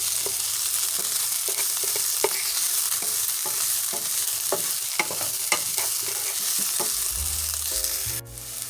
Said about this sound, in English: After 3 minutes, you want to add in your minced garlic. We're going to let that saute for 1 minute.